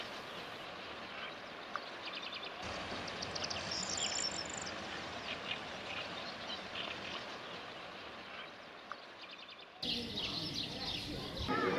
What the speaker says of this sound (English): I set up my camera to film birds at the water's edge